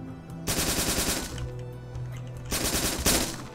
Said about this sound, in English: Whoa, this gun sounds cool, too.